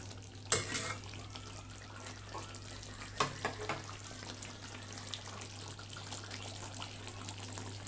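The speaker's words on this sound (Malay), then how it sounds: "Kita tambah kuah." Broth is poured into a thick buffalo meat curry simmering in a pot and stirred, giving a soft wet sizzle and liquid swirl. There are a couple of sharp clanks from the utensil against the pot, all fairly faint over steady background hum.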